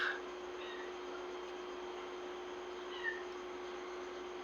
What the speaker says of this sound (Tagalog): may pusa ako, no? umiiyak.